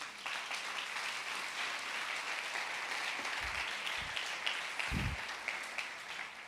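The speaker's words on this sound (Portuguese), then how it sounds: "Dê um aplauso a Jesus." A church congregation applauds in a continuous, even roar of clapping that stays dense and fairly distant throughout, with a few low bumps near the end.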